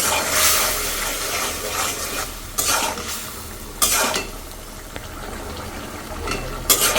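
Spice paste sautés in a pan for a rohu fish head and Malabar spinach dish, a continuous close sizzle broken by several sharp scraping stirs of a utensil against the pan, with no talk.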